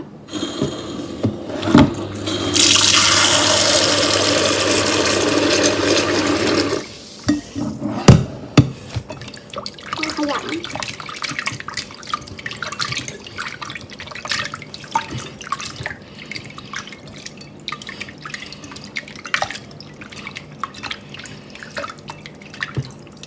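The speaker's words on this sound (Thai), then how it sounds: "เปิดน้ำให้ท่วม" A tap gushes loudly for a few seconds into a bowl of raw chicken, then stops, followed by close dripping, splashing and clattering as the chicken is handled in water.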